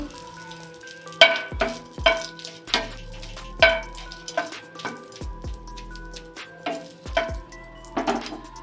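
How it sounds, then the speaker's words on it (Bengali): Three dried red chillies frying in hot mustard oil, with irregular crackling sizzles and pops plus several loud clanks of a utensil against the pan. "এবার আমি 3টে শুকনো লঙ্কা ভেজে নেব"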